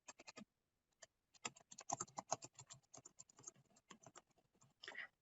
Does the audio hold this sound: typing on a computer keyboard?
yes